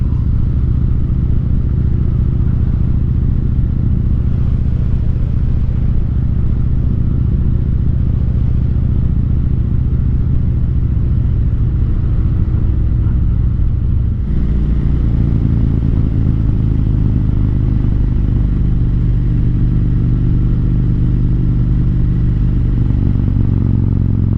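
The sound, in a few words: Harley-Davidson motorcycle riding in winter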